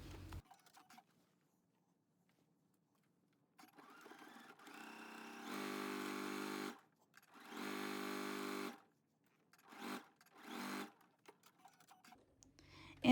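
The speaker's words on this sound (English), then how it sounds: "At the sewing machine, we will sew this at 5/8 of an inch seam allowance" A sewing machine stitching a seam in fabric, running in two longer bursts and several short ones, separated by quiet pauses.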